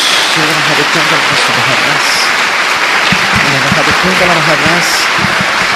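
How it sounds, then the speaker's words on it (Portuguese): A church congregation clapping together in praise, steady applause close by, with a voice speaking and exclaiming over it throughout. "Dê mais uma salva de palmas a Jesus."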